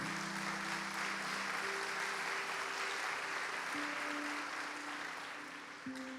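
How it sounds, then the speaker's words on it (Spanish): Applause from a church congregation during a Spanish-language sermon, a steady dense wash of clapping under a low sustained organ or keyboard drone, tapering slightly at the end. "Dele un aplauso al Señor."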